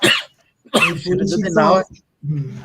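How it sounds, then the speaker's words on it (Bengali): A person coughs or clears their throat twice in quick bursts during a Bengali studio talk show, then conversation continues close by. "আপনার বোধহয় কাশি পেয়েছে"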